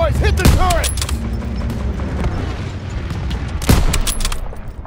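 Loud, dense gunfire in a Call of Duty: World War II battle at a stronghold, with bursts and sharp blasts throughout and heavy impacts near the start and end, with shouted voices mixed in.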